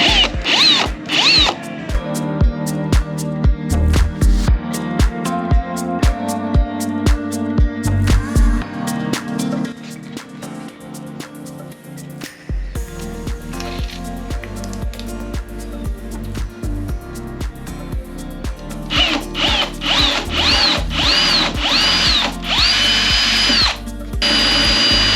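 A power drill whirs loudly in repeated bursts, drilling through a spoiler post while installing a GT wing on a Lotus Esprit, pitch rising and falling as it bites through, with short pauses between runs.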